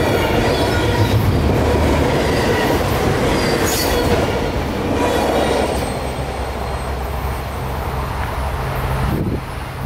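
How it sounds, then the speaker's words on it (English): A freight train rolls past close by and speeds off to the north, a loud steady rumble of wheels and cars with clacking rail joints and occasional squeals, fading slightly toward the end. "all I got was the end of his train and all of K422 speeding off to the north"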